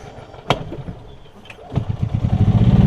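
A Yamaha golf cart engine on choke sputters with a few sharp pops, then catches and builds into a rapid, throbbing chug that grows louder toward the end.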